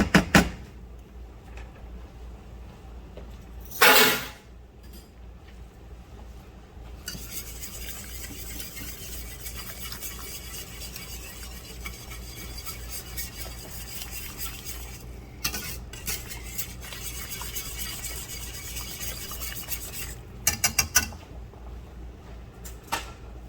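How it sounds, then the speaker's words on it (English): A sauce for cowboy butter chicken linguine is whisked in a pan, with steady faint scraping and stirring, a few sharp metallic clinks of utensils against the pan, and a soft sizzle underneath. "let me get me a whisk"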